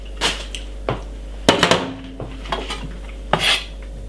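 Metal spoon scrapes and knocks against a ripe mango in a bowl, a series of sharp clinks and short scraping strokes in irregular bursts, close and fairly loud with quiet gaps between.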